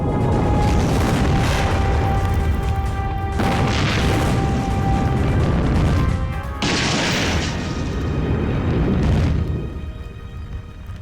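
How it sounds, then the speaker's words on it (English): Barrels struck by a tank explode in a sustained, rumbling blast with crashing debris, the roar swelling again in several loud broadband surges over about eleven seconds, with no talk. "I don't know what it was in there, what you had in those barrels, but whatever it is, it explodes"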